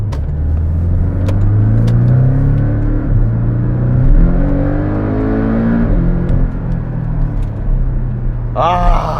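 A Porsche 718 Cayman GTS engine rumbles loudly and steadily behind the cabin, its pitch rising and falling as it revs, with a brief voice near the end.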